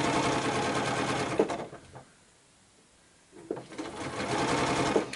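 A sewing machine stitches fabric along a curve in a quilt fan block with improv curves: two loud bursts of rapid stitching separated by a short pause, close by with no talk.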